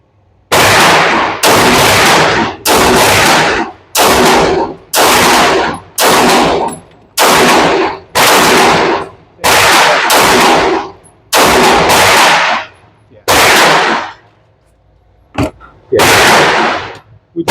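Remington R1 2011 pistol firing the rest of a magazine outdoors, about a dozen loud, sharp gunshots in an uneven rhythm, spaced roughly a second apart with a brief pause near the end.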